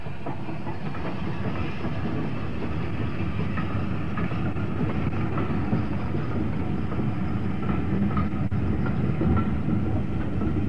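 A steam tank locomotive on the Bluebell Railway rolls steadily along at night with a continuous rumble and faint rhythmic clatter, heard close by without any voices.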